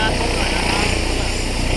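A helicopter arriving at a police aviation field gives a loud, continuous rotor and engine roar while a man reports over it.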